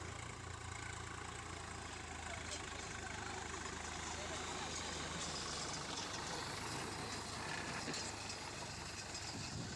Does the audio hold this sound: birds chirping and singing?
no